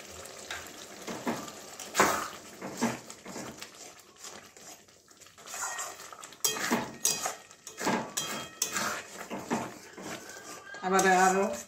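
Fenugreek greens and chana dal stirred together in a pan with garlic, giving scraping and clanking of a utensil against metal in uneven bursts, with a louder clatter near the end and a voice speaking at times.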